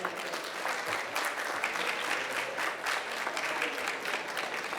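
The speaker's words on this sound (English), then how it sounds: "Another round of applause for our speakers on stage." An audience applauds speakers on stage at a US EXIM Bank loan letter-of-intent ceremony in Moldova, with dense, even clapping from a sizeable crowd sustained throughout at moderate loudness.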